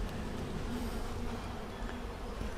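A dense swarm of honeybees hums continuously and up close during a honey harvest at an open hive, a steady low buzzing with no talking.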